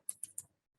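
Three quick, crisp keystrokes tap on a computer keyboard, close and faint, in an otherwise quiet room.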